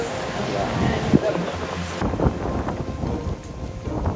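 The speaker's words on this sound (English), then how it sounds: "the wind's slightly died down" Strong wind buffets the microphone at an off-grid cabin building site in Hawaii, a loud, steady roar with gusty swells and low rumbles, and people talk faintly beneath it.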